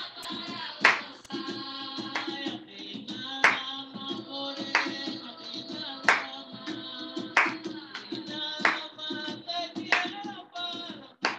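Palm claps in a folk dance class, sharp single claps landing at a regular beat over tonal folk music, fairly close and distinct.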